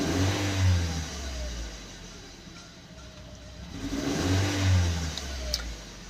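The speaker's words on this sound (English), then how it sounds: "When you try to accelerate, there is some hesitation." Toyota 3ZR engine with an ignition coil D circuit fault and check engine light on, revving up twice in uneven, hesitant surges with a dip in between, close and fairly loud with no talk.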